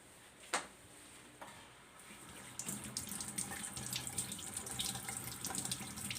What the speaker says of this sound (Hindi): चले आए हम इसको अब धोते हैं।